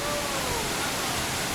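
A waterfall near a forest trail in Ghana, heard as a steady, distant rushing wash of water that stays even and fairly soft throughout.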